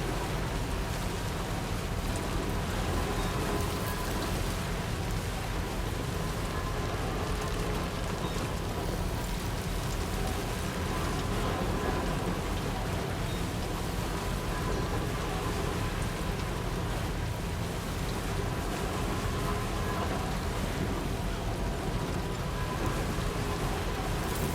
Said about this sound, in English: Off-roader is getting destroyed by this rain.